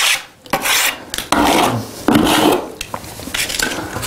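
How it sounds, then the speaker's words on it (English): A trowel scrapes silicone render on a wall in repeated long rasping strokes, loud and close, each pass separated by brief pauses, with no talking. "the trowel is actually pushing off the excess material around the edges, and then we just simply scrape it down"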